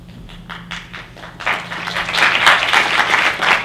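An audience at an architecture lecture breaks into applause, first a few scattered claps, then a full, dense round of clapping in a hall.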